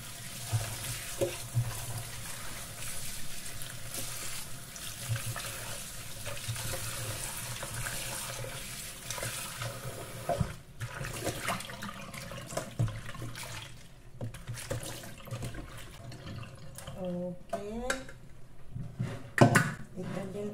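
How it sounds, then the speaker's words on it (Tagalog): Moringa leaves being rinsed under a running kitchen tap while preparing chicken tinola: a steady, close rush of water runs throughout, with small splashes and handling clatter over it. "Hugasan natin ang ating malunggay."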